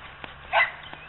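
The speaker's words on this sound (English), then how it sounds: "It's my crazy dog in the background." A dog barks once in the background during an outdoor look at an early-1980s Murray riding mower with a 14 horsepower V-twin, a single faint, distant bark between soft ambient noise.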